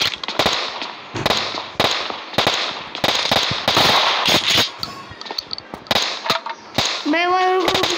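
Repeated sharp gunfire bursts from a shotgun in PUBG Mobile's Bluehole zone mode, loud and close, fired in quick irregular volleys with brief gaps and a short sweeping effect near the end; a voice speaks faintly in places.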